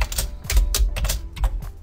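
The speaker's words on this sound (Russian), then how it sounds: "здесь вводите свое FIO, например, там пишу Олег" Keyboard typing to enter a name into a registration form, a short brisk series of about eight close, sharp keystrokes in uneven rhythm over a low background hum, with no talk.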